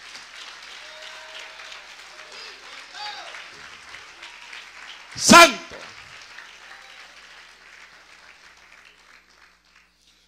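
Churchgoers at a sermon applaud in a low, continuous crowd rumble with a preacher's voice over it, punctuated by one loud, brief burst near the middle before fading.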